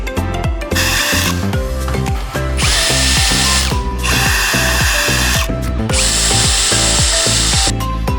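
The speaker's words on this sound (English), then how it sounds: "Next, put on the cover and fasten the screws." Power drill driving screws into the cover of an LQX-C series PV combiner box, a steady loud whirring with repeated rising and falling tool bursts and clicks throughout, no voices.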